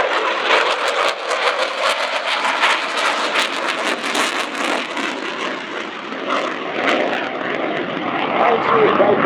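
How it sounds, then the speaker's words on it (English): An Italian Air Force Eurofighter Typhoon jet makes a high-performance fly-past at an air show, a loud sustained engine roar with broad rushing noise that swells again toward the end. "closing the maneuver before a high-performance fly past"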